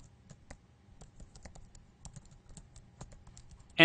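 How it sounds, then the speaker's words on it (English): A name being typed on a computer keyboard: a quick, uneven run of light key clicks close by and quiet, with a louder click right at the end and no speech. "type in his name"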